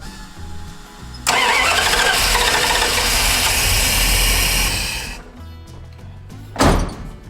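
A car engine with a suspected failed ECU cranks and fires up promptly in a shop, settling into a loud, steady run for several seconds before shutting off, followed by a short thunk.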